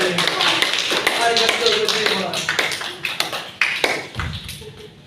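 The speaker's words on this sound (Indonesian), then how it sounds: "Beri tepuk tangan untuk Alif." A classroom of students claps for a classmate after his talk about a favorite film, a burst of brisk scattered clapping mixed with voices in the room.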